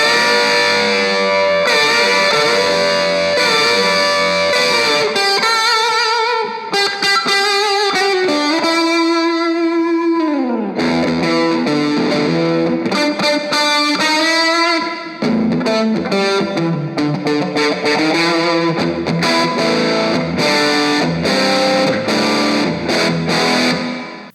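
Distorted electric guitar through the dirty channel of an Orange Crush 20RT amp with heavy reverb, playing loud sustained chords and melodic runs with long washy tails, brief pauses between phrases, no talking.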